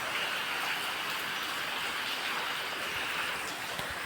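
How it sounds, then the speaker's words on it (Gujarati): Steady rain falls during a downpour on a rural farm with buffaloes, producing an even, continuous hiss that holds at one level throughout with no voices. "વરસાદ શરૂ થઈ ગયો છે"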